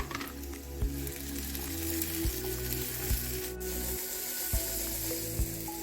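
Chicken frying in a pan with garlic and ginger, a steady close sizzle with faint periodic clicks and scrapes of stirring, no voices over it.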